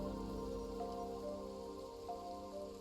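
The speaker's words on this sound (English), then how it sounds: "Where is the rain dropping?" Soft, steady rainfall on the terraformed Mars of Surviving Mars, a continuous faint patter with no pauses and no voices.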